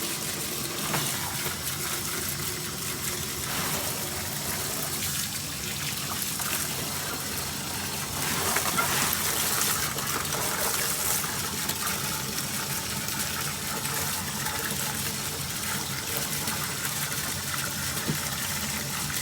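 Fresh water gushing steadily from a tap or hose into a bucket, a continuous close rushing and splashing that keeps going without a break, with a faint low hum underneath.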